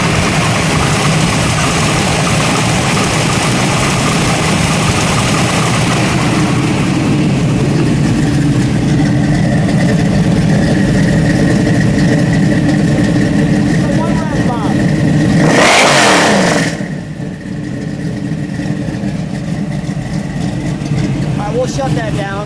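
The 401 V8 of a 1972 AMC Randall Gremlin XR with an automatic transmission idles with a loud, steady rumble, then gets one sharp rev that quickly drops back to idle, while people talk nearby.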